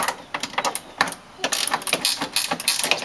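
A ratchet tightens bolts on a BMW E90 328i 3 Series window regulator, giving close, rapid bursts of sharp clicking in uneven spurts with short pauses between them.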